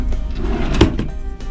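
A drawer in a cruise ship cabin sliding open or shut, a single close, dull thunk in the middle of a short stretch of low room rumble.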